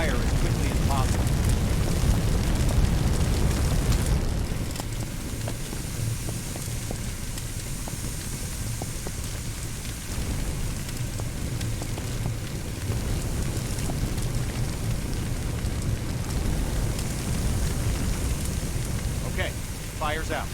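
A fire hose blasting water onto flames in Firefighting Simulator, a steady broad hiss and rush of spray that carries on continuously for the whole stretch, loud and close, with a voice talking over it.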